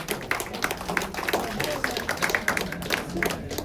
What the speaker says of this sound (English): So, applause guys.